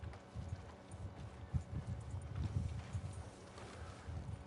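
Horse hooves in the video game Red Dead Redemption 2, a steady clip-clop gait of repeated soft hoof thuds, fairly faint and even under light wind-like background noise.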